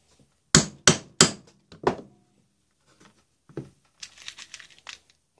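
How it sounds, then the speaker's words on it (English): A hole is punched through leather for a Morakniv knife sheath with several sharp, loud close strikes, followed by quieter scuffs and crinkling handling noises. "Now I need to punch a hole through here."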